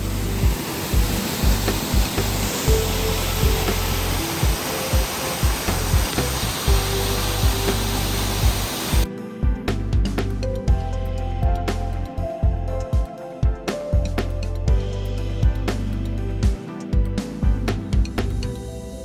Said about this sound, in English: there's a hole and the waterfall comes out of it